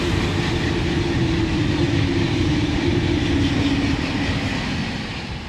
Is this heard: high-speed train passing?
yes